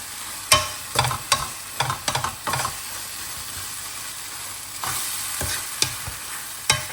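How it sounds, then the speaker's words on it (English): Dubai chocolate mixture stirred in a pan over a low flame, a gentle sizzle beneath repeated scraping strokes and taps, bunched at first, then a quieter stretch before more scrapes. "Let's try and mix this."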